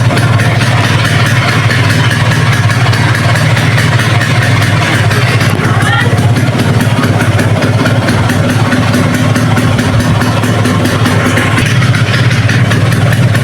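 A Vespa PX150 scooter engine idling close by, a loud, steady, evenly pulsing mechanical putter with light clatter that holds throughout, without talk.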